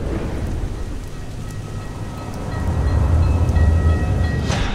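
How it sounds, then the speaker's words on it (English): A Queensland Rail train pulls into a station in the rain, with a constant hiss of rainfall and a low rumble that swells as the train draws near, plus faint tonal squeals from wheels or brakes. No voices. "The train was coming in."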